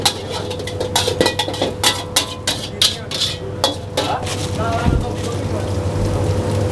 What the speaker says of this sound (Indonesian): kita tumis dulu sebentar